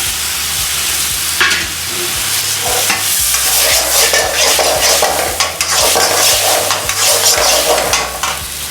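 Pieces of mutton sizzle loudly in a hot pan while being stirred, with a constant frying hiss broken by repeated scraping strokes of the stirring utensil.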